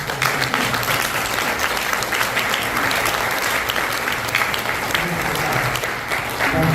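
Sustained applause from an audience at a scholarship award ceremony for students, dense continuous clapping filling the room, with voices faintly audible underneath.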